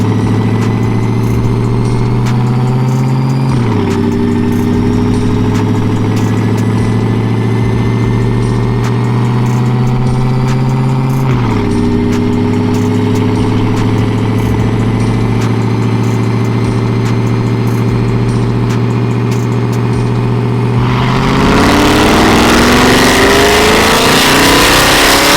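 Supercharged LT2 V8 in a C8 Corvette on a dyno, idling and blipping with steady low engine tone and brief revs, then swelling into a loud, roaring full-throttle pull near the end, close up with no talk.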